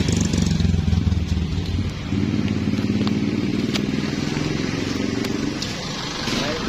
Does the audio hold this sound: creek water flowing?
no